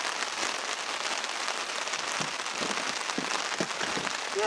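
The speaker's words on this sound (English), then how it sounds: "Hopefully this rain stops soon" Steady rain patters down on a taut tarp, a constant hiss with scattered heavier drips standing out, close by and without voices, at a canoe campsite.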